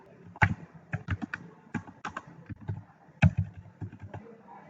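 Irregular bursts of keystrokes on a computer keyboard, close and fairly clear, with short pauses between clusters of taps and no talking.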